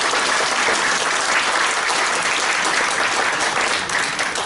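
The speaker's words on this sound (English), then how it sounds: "A big round of applause for Cam" Indoor audience at a community forum on aged care and disability services breaks into steady, dense applause, a full close wash of clapping sustained evenly throughout with no voices.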